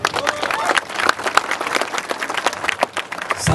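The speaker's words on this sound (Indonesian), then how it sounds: "Tepuk tangan untuk itu." Lively audience applause at a civic gathering against radicalism, a crackling burst of uneven claps with crowd noise and voices mixed in, sustained at close range across the clip.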